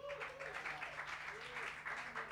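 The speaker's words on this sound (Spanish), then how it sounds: "Un aplauso para Mau" Audience applause at a live music bar show, steady soft clapping throughout at a distance, fairly faint, with some crowd murmur mixed in.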